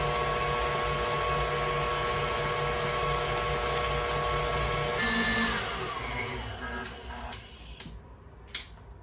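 An electric mixer whirs steadily as it beats egg whites for angel food cake, a constant loud motor hum that winds down and stops near the end, followed by a couple of light clicks.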